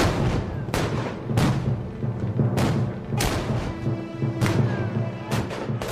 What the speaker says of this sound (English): Ranger approaches his ship and receives a withering broadside